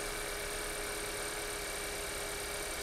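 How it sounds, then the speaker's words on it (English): A car engine idles steadily during a scan-tool check for a variable intake system fault, producing a low, even hum that stays constant and fairly quiet throughout, with no voices. "engine is running."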